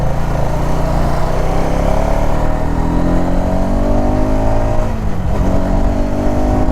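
Motorcycle engine pulling hard at speed on a highway, a loud, close, continuous drone whose pitch climbs through the gears with a brief dip midway and no voices over it.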